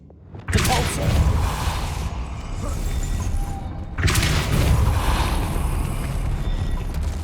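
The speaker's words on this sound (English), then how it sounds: "Making this spin ought to raise that platform." A Depulso spell in Hogwarts Legacy sets a stone mechanism spinning to raise a platform: a sudden loud grinding rumble starts, eases, then surges again with a heavy crash-like burst before continuing.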